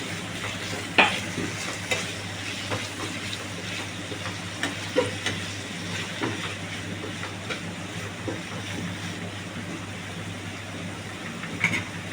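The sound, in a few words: shrimp and vegetables frying in a pan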